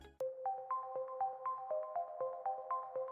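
Notification bell sound effect: a bright, repeating chime of quick bell-like notes in a steady rhythm, several strikes overlapping as they ring out, clean and alone.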